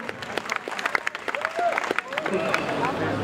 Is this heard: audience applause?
yes